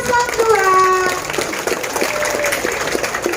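An audience at a junior high student council debate applauds a candidate pair, dense clapping that follows a brief voice and gradually thins while talk continues over it.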